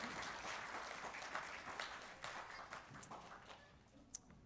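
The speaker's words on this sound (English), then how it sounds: "give her a little clap" Audience in a church service clapping for a young girl, a short burst of scattered applause in a room that thins out toward the end, with a few single claps.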